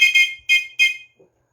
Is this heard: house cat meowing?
no